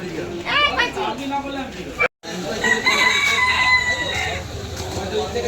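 Roosters crow and chickens cluck at a busy poultry and duck market under a bridge, with someone talking over the birds throughout and a brief cutoff midway.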